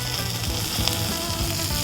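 Steady, close sizzling of curry leaves frying in hot oil, a continuous crackle with no voices.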